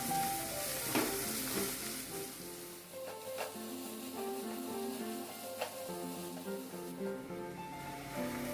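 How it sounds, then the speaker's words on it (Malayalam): Vegetables, green peas and onion for rava upma sauté in a pan, making a soft, steady sizzle with occasional stirring ticks beneath quiet background music. "ഈ വെജിറ്റബിൾസ് ഒന്ന് നന്നായി നമുക്ക് മൂപ്പിച്ചെടുക്കാം."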